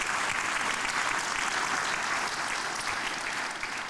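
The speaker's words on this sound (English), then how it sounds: "Could you guys give them a round of applause for taking time with us here?" Steady, dense audience applause at a GAPCON 2023 conference session, sustained clapping from a crowd throughout with no pauses.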